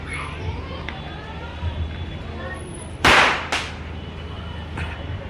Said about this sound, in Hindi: और ये बच्चे बम फोड़ रहे हैं